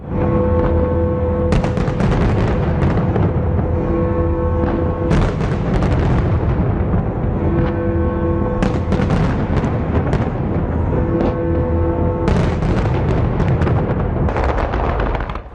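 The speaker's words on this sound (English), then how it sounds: "watch a colourful explosion of fireworks synced to each chime" Fireworks around London's Ferris wheel burst repeatedly with loud booms and crackles, synced to chimes, with sustained tones in the background between volleys.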